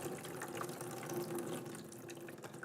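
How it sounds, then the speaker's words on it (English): Water from a tap or pitcher pours into a glass sprouting jar and is tipped back out, a soft continuous splashing and trickling heard faintly at close range with no talk. "I fill the jar up to the top,"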